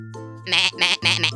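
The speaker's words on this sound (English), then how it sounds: "Goat." A goat bleats three times in quick succession, loud and close, each call a wavering nasal cry with a brief pause between them.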